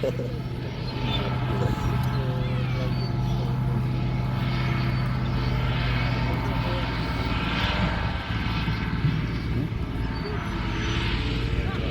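A steady propeller engine drone from an attack drone flying overhead at a military show fills the air, continuous and fairly loud, with faint crowd chatter underneath.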